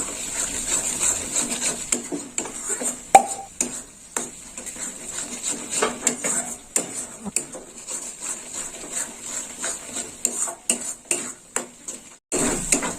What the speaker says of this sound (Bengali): সাঁড়াশি দিয়ে দিলাম। কড়াটা ভীষণ টলমল করছে।